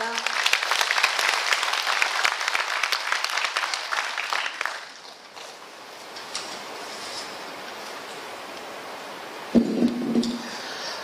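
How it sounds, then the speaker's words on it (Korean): Loud applause from a hall audience at a county council ceremony, dense clapping for about five seconds that stops abruptly, leaving quiet room tone before a voice begins near the end. "큰 박수 부탁드립니다."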